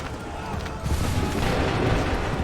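A musket volley in Assassin's Creed III Remastered: a dense, rumbling roar of massed gunfire that swells and holds loud and close, with battlefield noise and shouted voices beneath.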